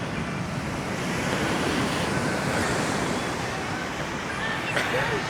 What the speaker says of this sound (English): And here's Jerman Beach.